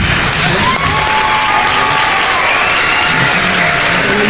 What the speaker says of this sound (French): On les acclame très fort.